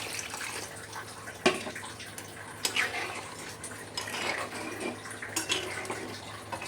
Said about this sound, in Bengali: এবার এর মধ্যে আমি গরম জলটা অ্যাড করে দিই।